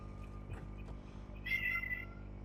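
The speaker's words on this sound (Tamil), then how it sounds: "இங்க ஒரு பூனை, திருட்டு பூனை" A cat meows once, a short, fairly clear cry over a steady low hum from the background of an Uncharted Legacy of Thieves game on PS5, with no one talking.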